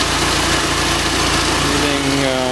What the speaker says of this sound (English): You can hear the heater fan, or the radiator fan kicking on.